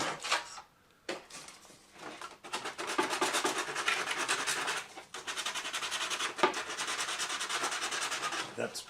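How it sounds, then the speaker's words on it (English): Sandpaper rubs against a protruding wooden lock joint in repeated back-and-forth strokes, a raspy scratching with brief pauses between bursts, close and fairly loud. "Need a little bit of sanding there"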